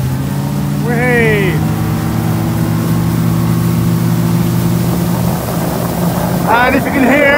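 Steady wind rush and motorboat engine drone on Loch Lomond during a boat ride along an open water swimming championship course, loud and continuous, with a voice talking over it near the start and end.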